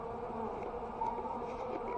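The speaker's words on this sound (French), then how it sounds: "les abeilles en profitent pour sortir" A close, continuous hum of many bees buzzing together as they leave a hive in a roof, steady and droning throughout.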